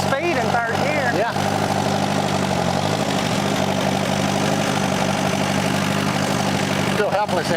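An Allis Chalmers twin-engine tractor chugs steadily with only one side firing, a continuous close, loud mechanical drone with engine harmonics that waver slightly, running alone without talk.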